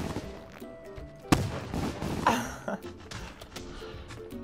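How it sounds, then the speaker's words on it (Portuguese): A fireworks tower firing in the Mini World tower defense video game, with sharp popping blasts and crackling bursts, one loud bang standing out among repeated lighter shots. "Será que esses fogos de artifício são legais? Porque fica atirando e tal."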